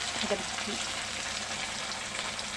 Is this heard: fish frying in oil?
yes